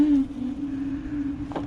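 Hovsco Hovbeta 750w fat tire folding ebike climbing a wet grassy hill on throttle alone, a steady close motor whine holding one pitch under wind rumble.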